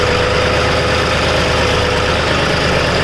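A John Deere 5210 GearPro tractor hauling a loaded trolley along a rough, dusty road, its diesel engine a loud, close, continuous rumbling drone with knocking vibration and no voices over it.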